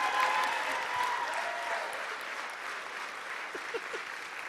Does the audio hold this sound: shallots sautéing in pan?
no